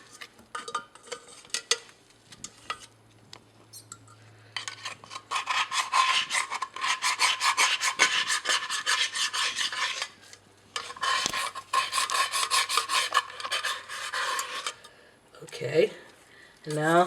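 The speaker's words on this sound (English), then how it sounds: "It looks like I can scrape more with the pot scraper." A pot scraper rasps and rubs over the scarred bottom of a pot, loosening burnt-on rice in bursts of close, gritty scraping with short pauses between strokes.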